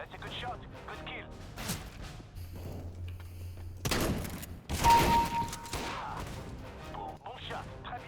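Rapid gunfire bursts and heavy thuds in the video game CS:GO, loud and clustered, with a few distinct sharp shots, under ongoing talk and in-game voice callouts.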